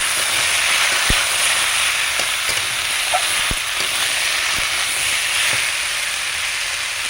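Ash gourd and potato pieces sauté in hot oil for a Bengali ash gourd curry, giving a steady, loud sizzle throughout with a few sharp clicks and taps of a spatula against the pan, and no talking.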